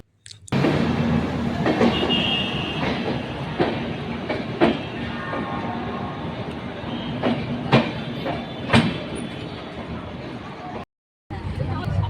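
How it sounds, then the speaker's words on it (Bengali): A Howrah–Amritsar Mail train rumbles steadily along the tracks, heard from an AC carriage, with periodic clacks and a brief high squeal, muffled voices in the carriage, then a short cut to silence. "ট্রেন ছুটে চলেছে তার গন্তব্য স্টেশনের দিকে"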